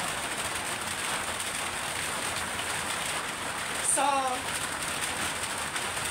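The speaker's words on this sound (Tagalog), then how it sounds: "No, malakas ang ulan." Heavy rain pours steadily on surfaces, a dense constant hiss throughout, with a brief voice rising near the end.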